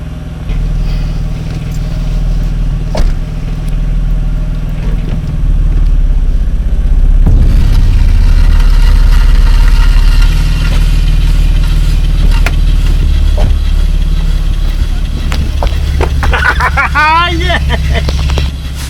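A Mercedes SL R230 with a repaired ABS fault idles steadily as it is shifted into drive, a loud, continuous low engine rumble lasting throughout, with a voice talking over it near the end.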